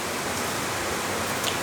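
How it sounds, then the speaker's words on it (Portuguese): Heavy rain falls in a steady, dense hiss that fills the whole stretch at an even level, with no voices over it. "Tá chovendo muito aqui agora."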